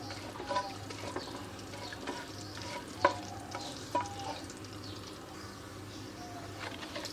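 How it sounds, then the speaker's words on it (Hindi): Whole cloves, cinnamon sticks and cumin seeds fry in hot oil for an egg korma, a soft continuous sizzle with occasional spoon knocks and clinks, fairly quiet. "और इसको आधा मिनट तक फ्राई करेंगे।"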